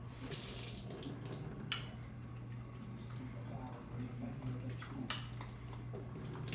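Tap water runs into a pan while beef stroganoff is being made with flour, a steady faint splashing flow with a couple of sharp clinks of cookware, all under a constant low hum.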